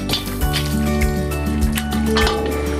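Cooked mutton and its leftover cooking liquid are transferred into a wok, with repeated wet squishing and dripping, clinks of a utensil and a low background hum.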